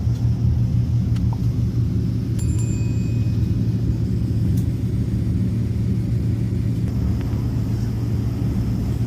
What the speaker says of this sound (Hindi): अभी ये रिवर्स गियर पे जा रहा था जहाज़, अब शायद सीधा जाने लगा है